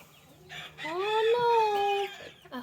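A hen in a coop gives a drawn-out, rising and falling vocal call lasting about a second and a half, close and clear, with quieter clucks around it.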